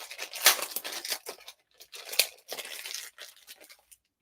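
Close-up tearing and crinkling of a taped package comes in several short, uneven bursts with brief pauses between them, and no one speaks.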